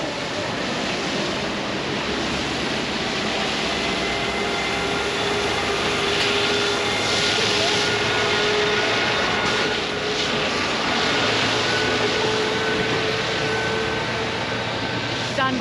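A street cleaning truck washes the road in Almaty, a loud steady broadband roar of spraying water and engine rumble that stays constant throughout, close by and continuous.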